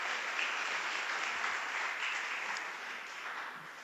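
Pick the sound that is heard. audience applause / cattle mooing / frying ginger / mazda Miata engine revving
audience applause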